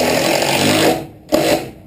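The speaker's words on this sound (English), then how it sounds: "we're going to drive in just 2 more screws." A power drill drives screws into the window framing of an off-grid cabin, whirring loudly and steadily, cutting out briefly, then revving again in a short second burst.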